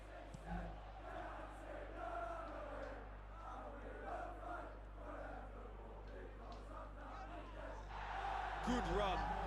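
Stadium crowd in the PES 2021 football video game cheers and roars steadily under continuous commentary, swelling louder near the end.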